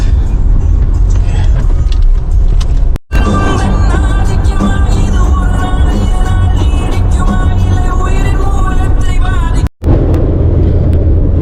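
Car driving on a highway from Austria to Italy, a loud, steady engine and road rumble from inside the cabin, broken twice by brief cuts.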